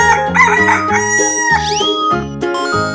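A chicken crows in a 3D animal video game, a loud cock-a-doodle-doo over steady, bouncy game music, followed by a rising chime effect.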